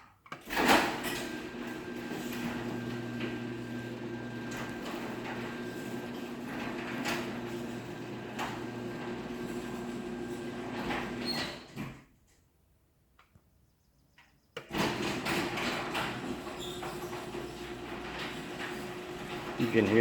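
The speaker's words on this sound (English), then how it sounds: "You can hear the door popping a little bit, but the motor is super quiet, and the belt is super quiet" A Craftsman belt-drive garage door opener runs with a quiet steady motor hum and occasional popping and creaking from the door. It stops for a couple of seconds, then starts running again.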